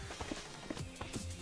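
Horse hooves clopping in Minecraft while riding, a quick run of light, irregular hoof knocks close up over a steady background bed.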